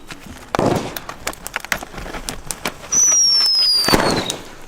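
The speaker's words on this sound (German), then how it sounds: "nehmen wir einfach mal noch ein paar Böller, und zwar die Viper 5 von Pyrotrade." Pyrotrade Viper 5 firecrackers going off outdoors on a street at New Year's, with a sharp bang near the start, scattered crackling pops, then a whistling squeal and another loud burst near the end.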